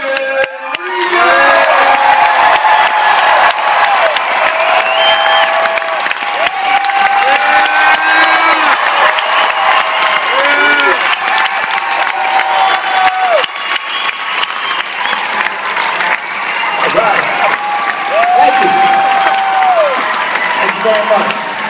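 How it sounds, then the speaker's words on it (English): Loud, continuous applause and cheering from a live comedy audience in Portland greeting Brian Regan, with whoops and shouted voices riding over dense clapping for over twenty seconds. "Folks, a big round of applause for Regan!"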